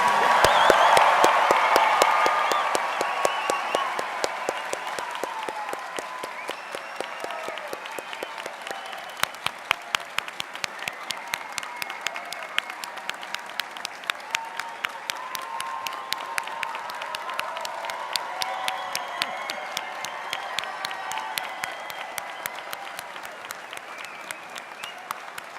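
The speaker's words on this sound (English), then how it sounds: "let's give them a huge round of applause" A large audience applauds at a medical school white coat ceremony in Glendale, Arizona, with sustained dense clapping and faint cheering, starting loud and settling into a long steady ovation heard from within the hall.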